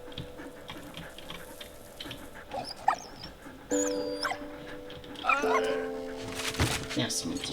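A dog barking in the World War I video game Soldats Inconnus, a few short yips and barks rising over game background sounds, with a person talking at points.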